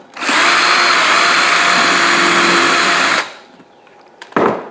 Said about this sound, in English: put a pencil mark, just like that, right in the center, and drill a guide hole on this one too.